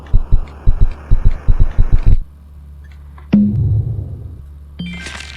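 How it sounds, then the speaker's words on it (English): In the computer game KinitoPET, a loud heartbeat thumps in quick paired beats about a dozen times, then stops, followed by a low hum and a couple of soft chime-like tones. "Why is there a heartbeat?"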